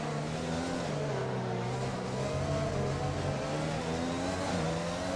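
Onboard Formula race car engine at the Dutch Grand Prix in an Xbox racing game, a loud continuous high-revving drone with pitch rising and dropping through gear changes, close and alone.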